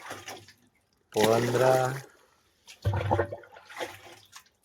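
Water pours from a can into a pesticide sprayer tank in short gushing bursts, heard alongside someone speaking.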